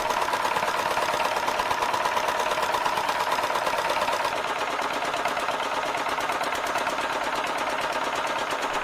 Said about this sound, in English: distinctive diesel sound